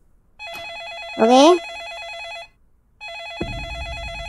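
A telephone rings with a bright warbling electronic trill in two long bursts, and a short voice and a thump cut in between and during the rings.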